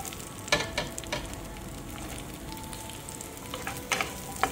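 Onions and capsicum frying in a kadhai for kadhai paneer, a steady close sizzle with occasional crackles and stirring clinks, no voices.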